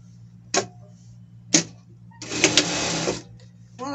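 A sewing machine stitches ribbing onto the neckline of a Chaves costume in a short burst of under a second, preceded by two sharp clicks and followed by another click.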